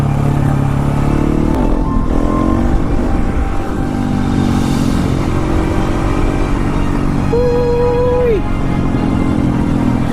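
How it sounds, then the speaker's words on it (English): A motorcycle pulls a first-gear power wheelie on a small back road, its engine roaring loud and close throughout with steady wind rush and a brief rising rev near the end. "First gear power wheelie."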